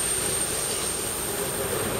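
A steady, loud airplane jet engine roar with a high whine on top, continuous and close, no voices, just after landing at Wuhan.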